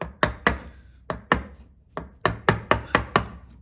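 A wood chisel cuts the corner of a halving joint in a vise with a run of sharp, evenly spaced knocks, roughly a dozen crisp strikes in close succession with no voices.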